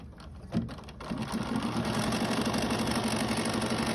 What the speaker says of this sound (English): let the machine run the placement stitches to stitch